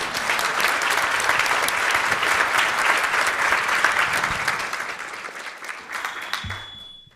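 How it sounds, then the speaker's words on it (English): Sustained audience applause closing a City Club of Cleveland library forum, a full, even roar of many clapping hands lasting several seconds before tapering off at the end. "Clap. Please applaud."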